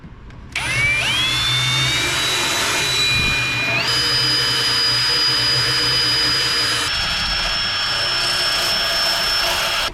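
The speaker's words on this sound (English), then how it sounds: "Now I have a burring tool to get these other holes." A burring tool deburrs holes in a fiberglass C-Dory boat helm. The tool gives a loud, steady high-pitched whine that shifts pitch twice as it works, with no talk.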